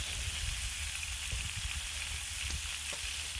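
Shrimp fried rice fries on a Blackstone griddle with a dense, steady sizzle and occasional soft scraping taps, close and constant throughout.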